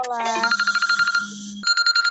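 A telephone rings with a bright, rapidly pulsing electronic trill in two bursts, alongside a sustained tonal voice-like note, close and clear.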